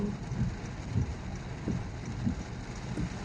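Heavy rain falls on a slow road trip through Negeri Sembilan, a dense constant wash of noise with soft periodic low thuds beneath it.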